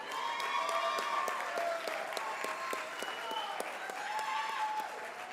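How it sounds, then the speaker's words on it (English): Audience applause at a debate on cashless versus cash-only society, a steady wash of clapping with scattered sharper claps running for about five seconds, while voices murmur in the room beneath it. "You may applaud now."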